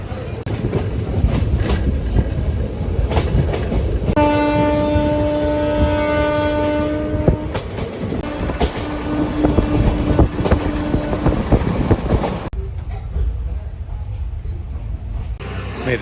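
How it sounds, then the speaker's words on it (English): Steady rumble and rattle of a moving train in India heard from inside the carriage, with a sustained horn-like tone partway through. "I made it onto the train and it's surprisingly empty."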